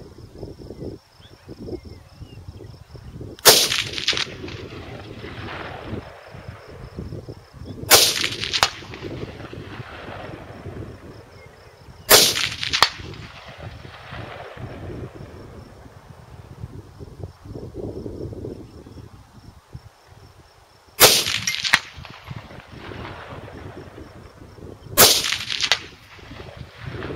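Five sharp 6.5 Grendel rifle shots ring out at irregular intervals, each a loud, crisp crack over steady outdoor wind noise at a 300-yard range.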